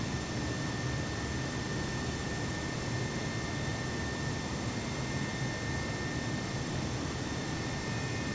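An airliner taxiing in Microsoft Flight Simulator gives off a steady, faint broadband jet engine hum with a constant high whine, unchanging throughout and with no voices.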